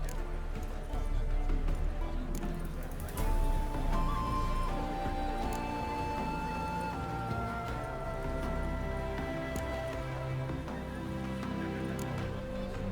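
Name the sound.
horse hooves clip-clopping, from the video game The Witcher 3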